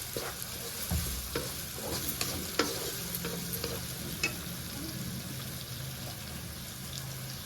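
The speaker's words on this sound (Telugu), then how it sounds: "మెత్తగా మగ్గిపోయే వరకు సిమ్లో మగ్గించుకుందాం" Gobi tomato curry of cauliflower, tomatoes and onions simmers in a pan with a soft steady sizzle, while a spoon stirs and scrapes through it in scattered light knocks. The sound is close and fairly quiet.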